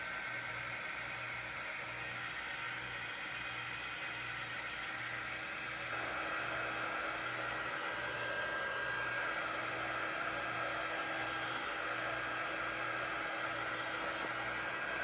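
A hair dryer drying fresh chalk paste paint on a sunflower design blows with a constant loud whooshing roar and a steady motor hum, running without a break and with no talking.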